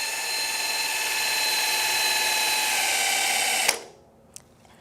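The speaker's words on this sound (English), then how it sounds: "turn that motor with your drill" A power drill turns the motor of a Power Gear hydraulic leveling jack, whirring steadily at a high, even pitch for several seconds, then stops abruptly, leaving near silence with a faint click.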